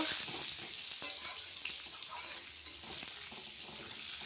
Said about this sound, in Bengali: মাছ ভাজার তেলেই আলুটা ভেজে নিচ্ছি